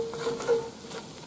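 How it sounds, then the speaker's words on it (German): Onions and tomato paste sizzle in a pan as they are stirred for bigos, a soft steady frying hiss with a few scraping stirs, close and moderately quiet. "jetzt habe ich die Zwiebeln schön angeschwitzt, Tomatenmark dazu"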